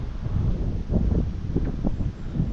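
Steady wind buffets the microphone while cycling in Amiens, a low, rumbling roar that swells and eases, with faint rustling underneath.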